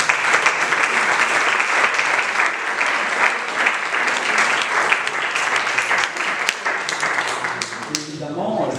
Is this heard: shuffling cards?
no